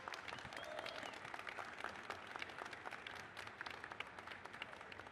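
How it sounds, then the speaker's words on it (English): An audience at a gamescom latam 2024 stage session applauds pitch presentations with dense, sustained clapping from a sizable crowd, steady and even throughout, with no voices over it. "I want an amazing, huge round of applause for these pitch presentations"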